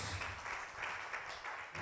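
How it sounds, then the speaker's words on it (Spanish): A church congregation applauds during a Spanish-language sermon, a steady, faint wash of clapping that holds for about two seconds without letting up. "Denle un aplauso al Señor"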